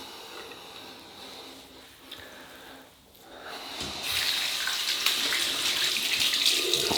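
Tap water running into a sink to heat a razor, a faint trickle at first that swells into a strong, steady close gush of flowing water.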